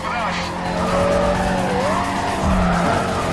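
A racing car engine in Need for Speed Carbon whines and shifts pitch at high speed, with tires squealing, loud and continuous.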